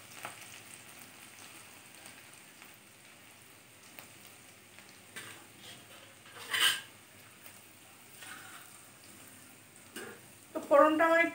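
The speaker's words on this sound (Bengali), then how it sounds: "ফোড়নে আমি দিয়ে দিলাম একটু সাদা জিরে, কাঁচা লঙ্কা আর রসুন।" White cumin seeds, green chilies and crushed garlic sizzle in hot tempering oil, a faint continuous crackle with occasional utensil clinks and stirring noises, while a person talks over it.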